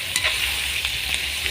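Bikol-style dinuguan sizzling hard in a hot pan over a strong flame while being stirred, a steady bright frying hiss with faint scraping strokes, close and continuous, no talk.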